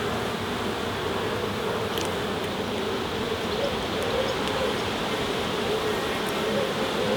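Honeybees buzz steadily and densely around an open hive during an inspection in the UK, a close, continuous drone with no break and no voices.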